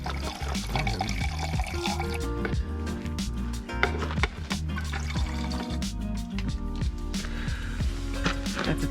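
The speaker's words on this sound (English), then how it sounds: "Oh, you're using our new water spout?" Water pours steadily from the spout of a 10-gallon water tank on a flatbed truck, a continuous splashing trickle with gurgling tones, close by and moderately loud throughout.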